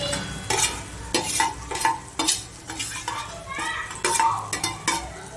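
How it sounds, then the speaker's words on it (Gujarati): A prepared Kathiyawadi-style corn olo mixture goes into a hot pan and is stirred repeatedly, with spoon scrapes and clinks against the pan over a steady sizzle close by. Nobody speaks. "હવે આપણે જે ઓળો તૈયાર કર્યો તો મૂંગણનો એ નાખીશું."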